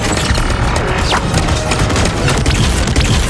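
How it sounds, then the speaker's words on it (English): An ion bomb firing and exploding in an action scene produces a dense, loud barrage of booms and crashing blasts with rapid gunfire-like bursts, continuous for the whole span without speech. "Fire the ion bomb!"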